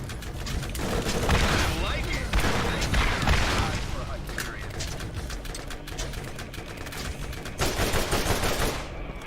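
Rapid, loud automatic gunfire from a weapon in the video game Borderlands, fighting high-health robot enemies, with dense bursts of shots running nearly continuously and brief lulls between volleys.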